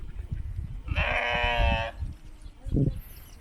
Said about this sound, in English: What the sheep are doing.